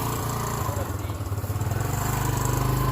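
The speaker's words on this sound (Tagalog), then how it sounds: "So yun po ang motor nila." Small motorcycle engine idling and revving steadily on a rural landholding in Jomalig, Quezon, loud and close with a continuous low rumble, and no talk over it.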